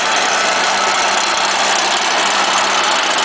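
A STIHL chainsaw engine runs steadily at high idle right after a cold start, a loud, continuous buzzing drone filling the whole moment with no voices.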